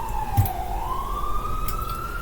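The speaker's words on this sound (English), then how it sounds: "What is going on with all these sirens today?" A wailing emergency vehicle siren outdoors, a single rising and falling tone sweeping slowly and steadily over a low traffic rumble, heard at moderate distance.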